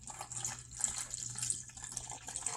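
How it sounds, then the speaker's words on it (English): Water is poured onto powder in a winter sensory bin at a family literacy night, a steady soft trickle and pour, fairly quiet and continuous, with a low hum underneath and no talking. "Let's see what happens when you pour some water on it, Miss Julie."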